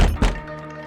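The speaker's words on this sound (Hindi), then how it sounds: "पिताजी दरवाजा क्यों खटखटा रहे हैं?" A door is knocked on, two heavy thunking knocks about a fifth of a second apart, close and loud, with a faint resonant tail afterward.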